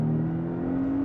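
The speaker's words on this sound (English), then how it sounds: "if I drop it down, for example, into first gear now, power down" Porsche Boxster engine pulling hard in first gear, a steady droning whir with strong tonal hum, continuous and close throughout the short burst.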